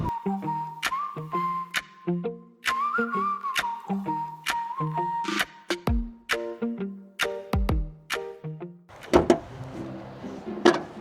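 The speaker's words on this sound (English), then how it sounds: "It does kind of have an odd whistle to it." A thin, steady whistle hums inside a van in the cold, interrupted by frequent sharp clicks and knocks, with a rushing burst near the end.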